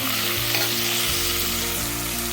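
Chopped tomatoes sauté in a hot pan for Kongu-style green gram rice, giving a loud, steady sizzle with continuous frying hiss and no talking.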